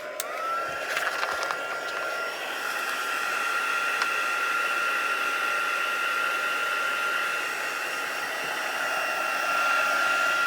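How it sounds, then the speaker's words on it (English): A heat tool blows a steady, close, whooshing stream of hot air to dry ink on a craft piece, an even roar with a brief whine as it spins up at the start. "I'm again going to take my heat tool and dry this part off"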